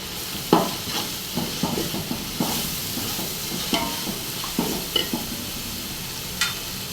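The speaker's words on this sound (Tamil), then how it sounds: "நெய் வந்து இதுக்கு வந்து இந்த ஸ்பூனில் 1 ஸ்பூன் இப்போதைக்கு ஊற்றுறேன்ப்பா." Ghee sizzles and crackles in a pan with fried ginger, garlic and onion for mutton biryani, with steady frying hiss and a few sharper stirring scrapes, close and fairly loud, no talk.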